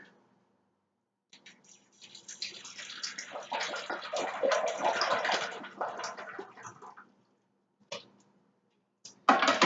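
Bottled water pours into the reservoir of a Keurig coffee maker, a close splashing, gurgling stream for a few seconds, then brief clunks and taps of handling afterward.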